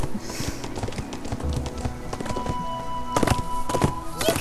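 Horse hooves clip-clopping in the video game Rangers of Oblivion, a steady rhythmic run of hoofbeats at moderate loudness with game effects and chimes layered over it.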